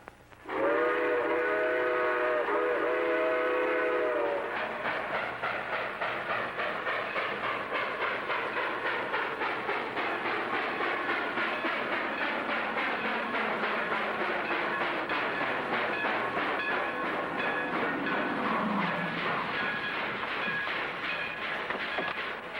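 A 1940s radio drama: a train whistle sounds, then a long stretch of steady clickety-clack as the train rolls along the rails, its pitch slowly falling away.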